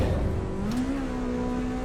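A race car engine in the racing game Assetto Corsa Evo holds a steady, sustained drone with a slight rise in pitch, heard alone without talk.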